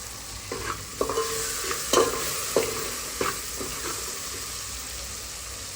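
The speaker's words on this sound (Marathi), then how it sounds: "आपण मीठ टाकल्यावर चांगलं परतून घेऊया" Onion and tomato with salt and turmeric are stirred in a sizzling pan. Rhythmic spatula strokes scrape roughly once a second over a steady, close frying hiss, with no talking.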